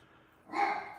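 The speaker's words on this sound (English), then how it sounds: "I got crazy pooch barking at me" A single short dog bark, fairly close and moderately loud, after a brief quiet moment.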